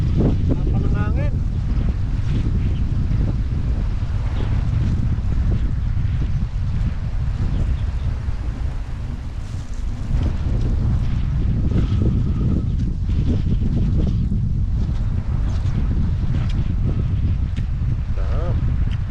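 Strong wind roars continuously into the microphone outdoors, heavy low rumbling buffeting throughout, with a boat and water noise underneath and people talking faintly in the mix.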